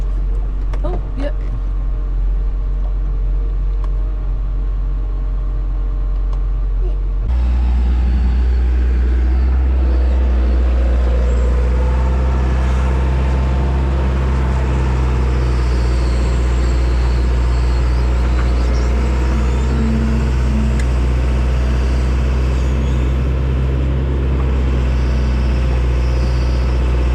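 A brand-new tractor's engine rumbles loudly and steadily at close range from inside the cab, a deep continuous drone that grows fuller partway through.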